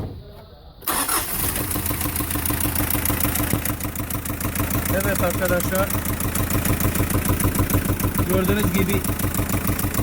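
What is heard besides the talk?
Hyundai H100 2003 van engine running with a manifold noise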